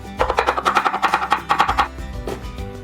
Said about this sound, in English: starting with my garlic cloves, I'm gonna mince these up